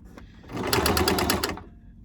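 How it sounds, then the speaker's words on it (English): A sewing machine stitches along a folded fabric edge while a protective face covering is made. One brief, close run of rapid, even stitching rises and fades within about a second. "fold this over, and sew along the edge. Always make sure to backstitch"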